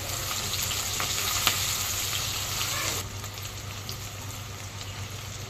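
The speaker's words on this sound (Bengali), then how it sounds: "দিয়ে দেবো পেঁয়াজ কুচি" Chopped onion and garlic fry in hot oil with a steady, hissing sizzle like light rain, close and continuous. The sizzle drops a little in loudness about halfway through.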